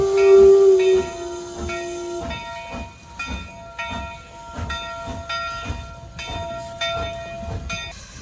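A wood-burning Virginia & Truckee steam locomotive hisses steadily with a sustained sharp whistle-like tone at the start, then a continuous rumbling, hissing background with rhythmic pulses, fairly close and loud, no voices.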